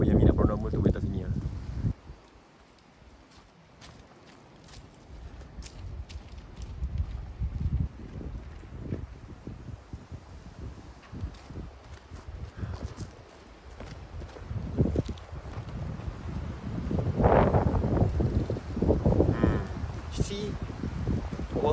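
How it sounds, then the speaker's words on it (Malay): Gusty autumn wind buffets the microphone outdoors in a steady, roaring rush that swells and dips over about twenty seconds, with people talking intermittently over it. "dia agak berangin sikit lah sebab musim autumn kan"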